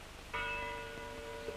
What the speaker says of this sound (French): Oh, les cloches.